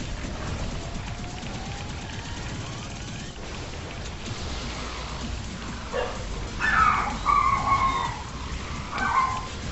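A pet dog barks and howls indoors, its drawn-out, wavering cries rising loudest in the last few seconds over a steady bed of video-game noise.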